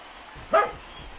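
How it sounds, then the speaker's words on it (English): A single short bark from a dog in the crowd rings out at a simulated MLB The Show baseball game, Nationals versus Brewers, brief and clear over a faint, steady ambience. "we have a dog cheering on the action here"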